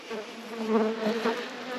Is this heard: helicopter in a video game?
no